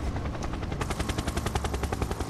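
Helicopter in the Final Fantasy VII Remake video game, a loud, steady rapid chopping of rotor blades that pulses evenly throughout, sounding close and dense, with no voices.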